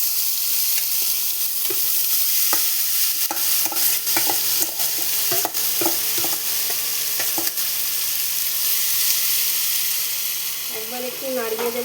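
Potatoes fry in hot mustard oil with a loud, steady sizzle throughout, broken by sharp clacks and scrapes of a spatula stirring the pan; a brief voice hum comes in near the end.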